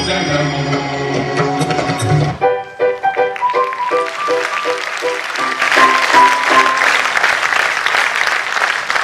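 Audience applause for a pre-primary children's annual programme in an auditorium, following sustained musical tones; the clapping starts abruptly, dense and steady, and swells louder toward the end.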